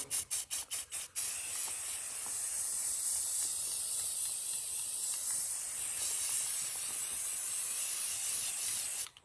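Aerosol spray paint in dark OD green hissing steadily onto a budget shotgun, a few short bursts opening into one long continuous spray that stops abruptly near the end, close and alone.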